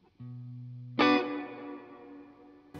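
A guitar runs through a Walrus Audio modulation pedal set to high modulation: a held note, then a louder struck chord rings out and decays with a wavering dip in pitch of about a semitone. No voices.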